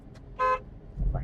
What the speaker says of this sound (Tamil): ஹார்ன் அடிச்சுட்டு